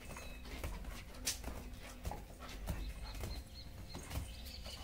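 Guard dog during bite training, tugging at a cloth rag as it works: a string of short, close panting and whimpering bursts with sharp rustling hits, repeated unevenly over a steady background.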